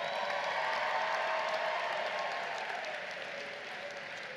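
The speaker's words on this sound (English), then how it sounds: "Give yourselves a big round of applause." A large crowd applauds at a community college commencement ceremony, a loud dense roar of clapping and cheering that holds steady and then eases slightly toward the end.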